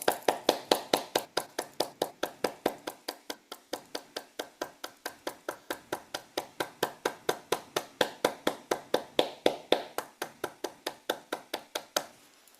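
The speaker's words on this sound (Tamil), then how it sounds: "அதை இட்டு நாங்கள் உங்களை பாராட்டி சில வினாடிகள் கரகோஷம் எழுப்புவோம்" Rhythmic group clapping from an audience, a steady beat of sharp, evenly spaced claps keeping time for over twelve seconds, close and clear with no talking.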